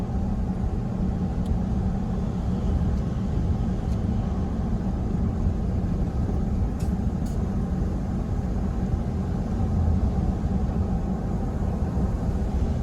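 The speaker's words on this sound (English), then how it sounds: "Again, this is one of the very well maintained gravel roads." A Dodge Power Wagon rolls along a well-maintained gravel road in the Colorado mountains, heard as a steady, loud low rumble of engine and tires from inside the cab, continuous throughout.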